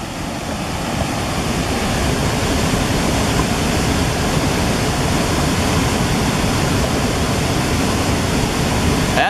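Breakwater Falls on the Pine River runs wide open below an opened dam, its heavy water pouring in a loud, constant, close roar with no letup.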